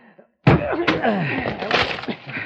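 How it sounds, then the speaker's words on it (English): A door is forced open in an old radio mystery drama, a heavy slam and thump bursting out after near silence, followed by loud rattling and scraping with voices reacting. "Break down the door, Heath"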